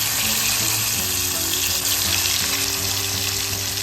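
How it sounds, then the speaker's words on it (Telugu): Boiled bitter gourd pieces frying in oil make a dense, steady, close sizzle with a watery crackle, unbroken and without speech. "వీటిని ఇప్పుడు వీటిలో ఫ్రై చేసుకోవాలి నూనెలో."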